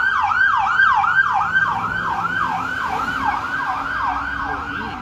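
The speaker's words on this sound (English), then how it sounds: "As you can hear in the background, the ambulance is already on the way." An ambulance siren wails in a fast, regular up-and-down pattern, loud and close throughout and holding steady, with faint road noise beneath and no talk.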